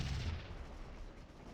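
Artillery in the Scourge of War battle game fires a single booming shot that opens loud and decays into a rumbling tail within about a second.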